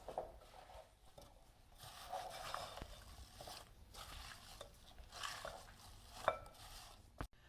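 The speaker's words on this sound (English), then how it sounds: "Now, carefully stir them and try not to break the apples." Apple slices tossed with cornstarch in a bowl, a spoon scraping and clinking gently against the sides in slow irregular strokes, close and quiet, with one sharper knock near the end.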